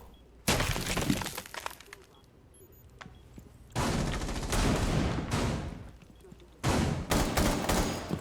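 Gunfire in a first-person shooter video game, three loud close bursts of rapid automatic fire separated by quieter gaps with faint clicks and small sounds.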